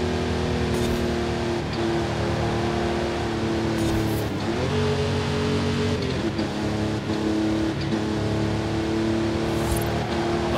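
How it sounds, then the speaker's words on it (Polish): A car engine in Forza Horizon 5 revs steadily on a lap, a continuous loud engine drone with shifting pitch and brief gear-change dips throughout. "skacze nam ten silnik"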